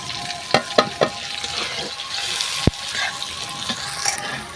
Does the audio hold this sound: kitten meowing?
no